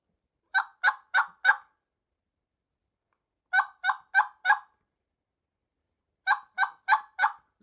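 A turkey call imitates a hen's yelps in three evenly spaced series of four notes, each run delivered at the same cadence and volume, clear against silence.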